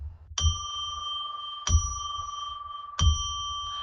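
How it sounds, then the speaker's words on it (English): A bell is struck three times at an even, unhurried pace to open a tarot reading on a live psychic broadcast. Each bright, clear ring lingers and fades before the next strike. "I will ring a bell now to declare sacred space."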